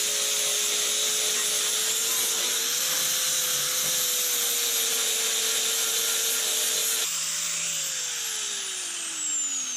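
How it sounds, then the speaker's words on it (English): A 40 grit abrasive sanding wheel grinds down a metal car body panel on a 3rd gen Camaro, a steady high-pitched whine close up with slight shifts in pitch as pressure changes, loud and continuous. "All I got is like a 40 grit sanding wheel right here."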